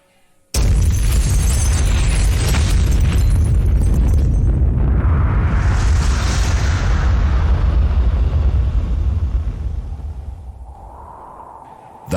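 A sudden, loud explosive boom from a burning ammunition ship in a harbor erupts and rolls on as a long, heavy rumble that slowly fades away, with no voices present.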